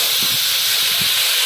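Potatoes and whole cumin seeds fry in hot oil in a pan, giving a steady, loud, close sizzling hiss throughout with no pauses.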